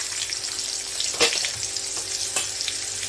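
Urad dal sizzles in hot oil in a pan, a steady close frying hiss with a few brief stirring clinks.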